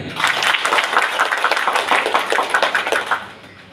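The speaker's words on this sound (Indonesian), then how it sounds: "Tepuk tangan dulu." An audience at a Pemuda Pancamarga youth organisation meeting in Padangsidimpuan claps together in a dense, steady burst of applause that stays loud for about three seconds, then tapers off.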